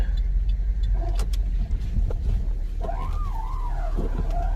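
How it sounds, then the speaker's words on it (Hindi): A car rolls slowly into a home driveway early in the morning, its engine a steady low rumble, with faint tyre and brake squeaks near the end. "मैं गाड़ी पार्क करता हूँ यहाँ पे"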